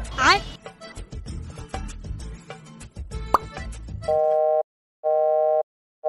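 A phone call connects with a few dial and keypad blips under a man's speech, then a repeating electronic ringback tone pulses in long, evenly spaced bursts.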